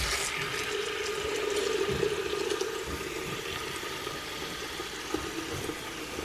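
Water pours steadily into a container nearby, a continuous splashing gush with a slight rising tone as it fills.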